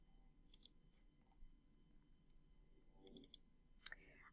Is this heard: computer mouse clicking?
yes